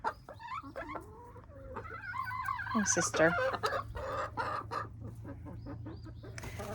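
Rhode Island Red chickens cluck and squawk in a coop, with layered bird calls close by and a person speaking briefly among them.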